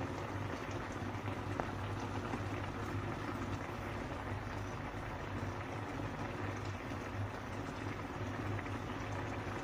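Sardines frying in a pan give a steady, even sizzle and crackle that runs unbroken at moderate volume, with no voices over it.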